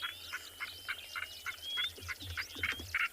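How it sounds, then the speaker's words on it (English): Small birds calling at sunrise on a safari in the Kalahari at Tswalu, a faint, steady series of repeated chirping notes with thin whistles over low background rumble, with no talking. "lots of little birds calling at the moment"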